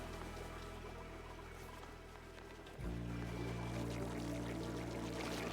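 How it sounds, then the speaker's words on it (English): Polluted water pouring down in the video game Oxygen Not Included, a continuous rushing flow that thickens and grows louder partway through. "Starting to get some polluted water dropped off there."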